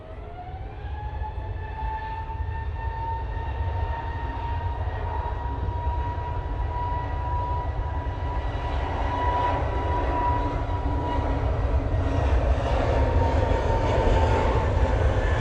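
An easyJet jet takes off at Manchester Airport on a windy day, its engine roar building from a whining spool-up into a loud, swelling broadband rumble that grows steadily louder to the end, with no talking.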